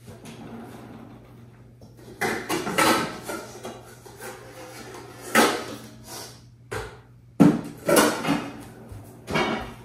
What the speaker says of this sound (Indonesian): Saya akan mencampur nasi gorengnya sebelum saya taruh.